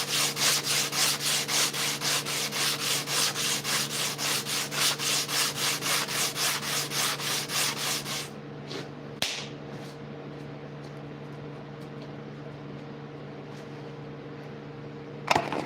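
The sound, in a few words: sanding wood smooth with fine-grit sandpaper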